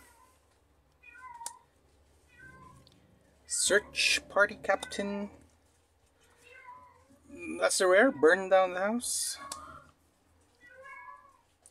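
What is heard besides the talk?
cat meowing in the background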